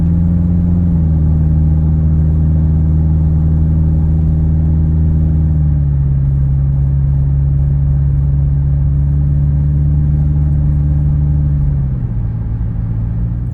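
A car fitted with an Evil Energy exhaust cruising at low throttle through a neighborhood, giving a loud, steady, deep droning rumble heard from close by that dips slightly in pitch as the revs shift.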